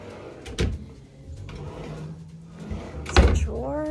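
Hotel room drawers in a New York-New York Las Vegas king room sliding open and shut, two sharp wooden knocks with a soft rolling slide between them, close by, with a brief voice near the end.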